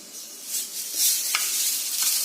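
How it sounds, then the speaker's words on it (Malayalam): Mustard and fenugreek seeds crackle and pop in hot oil for a mango pickle tempering, a bright, close sizzle broken by quick, scattered pops. "എണ്ണ ചൂടാക്കി കടുക് ഉലുവായിട്ട് പൊട്ടിക്കാം."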